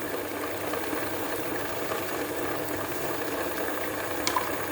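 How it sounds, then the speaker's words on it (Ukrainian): An electric mixer whipping eggs with sugar and vanilla sugar for kefir cupcakes, a steady, moderately quiet mechanical whirring hum with faint rattling, continuous and without talk. "засікаємо хвилин 5 і нехай яйця збиваються"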